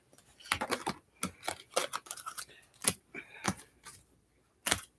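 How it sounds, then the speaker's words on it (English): Tarot cards are gathered and handled close up, with crisp shuffling snaps, light rubbing and flicks coming in irregular bursts separated by short quiet gaps, no voices. "I'm almost done with the cards, you guys."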